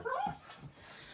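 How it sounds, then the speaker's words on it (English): A dog gives a short high yelping bark up close, followed by a softer low whimper. "I'm really sorry about my dog barking"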